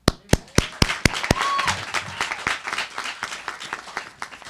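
An awards ceremony audience applauds, opening with several loud, sharp, evenly spaced claps that swell into dense, steady clapping from many hands in an indoor hall.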